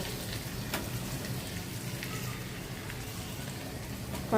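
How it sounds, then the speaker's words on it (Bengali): Hilsa fish frying in a paste of onion, turmeric and chili: a soft, steady, rain-like sizzle that stays even and fairly quiet throughout. "একটু মাছটা এই মশলাটার মধ্যে মানে একটু কষাবো"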